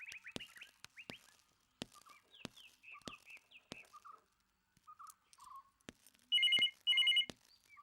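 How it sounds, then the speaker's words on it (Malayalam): In a household scene from a classic Malayalam family drama, a telephone rings in two short, loud electronic bursts near the end, after scattered sharp clicks and faint chirping sounds. "ഫോൺ അടിക്കണ്ടല്ലോ."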